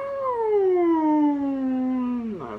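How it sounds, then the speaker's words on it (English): A fire truck horn sounds at a fire station as one loud, sustained, wailing tone that slides slowly downward before cutting off, heard alone. "A firefighter sound, like a horn, and you hear it very loud, cover your ears."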